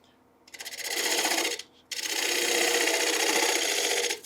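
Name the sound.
gouge cutting side grain of wooden bowl on lathe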